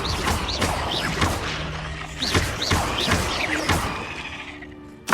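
Blasting-spell impacts in the fantasy action game Hogwarts Legacy, with repeated loud thuds and crashes over dense game music and effects.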